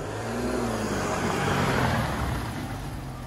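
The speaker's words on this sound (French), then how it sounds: "Tu montes dans la voiture, tu fermes la porte, la clé, pied sur le frein, un coup et on avance" A car starts up and pulls away, a steady engine drone rising slightly as it moves off, close and fairly loud with no voices.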